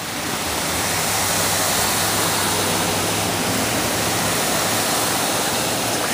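A car driving through a rain-flooded street in Ocean City, New Jersey, its tires surging through standing water under a constant roar of heavy rain, loud and steady with no speech.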